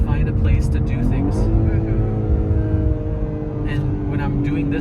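Engine of a BMW X3/X4 M40i revving while cornering, a loud sustained drone whose pitch climbs and then holds steady, with tyre and wind noise underneath and a voice speaking over it.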